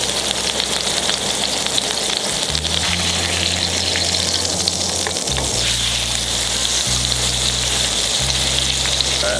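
Marinated trout frying in butter in a pan, a steady loud sizzle close by, with a low pump-like hum cycling on and off underneath and no talking.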